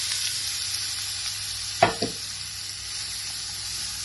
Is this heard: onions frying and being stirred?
yes